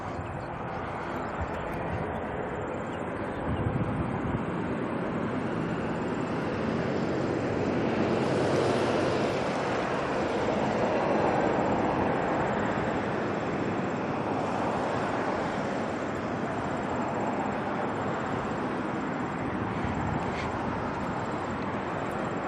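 An Airbus A330 airliner arrives at Auckland Airport with a steady, broad jet roar that stays loud throughout and swells gently near the middle, heard from a spotting position with wind around it.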